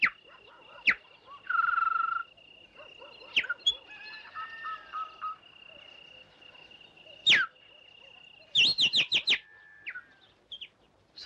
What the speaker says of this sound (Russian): Соловей поет.